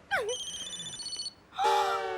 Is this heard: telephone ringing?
yes